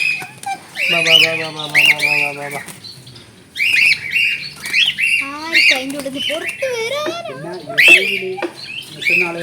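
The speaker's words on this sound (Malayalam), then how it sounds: "ഇവർ ഭയങ്കര കരച്ചിലാണ്" Several pet cockatiels squawking loudly and repeatedly at close range, harsh overlapping cries with wing flaps, and a person speaking between the calls.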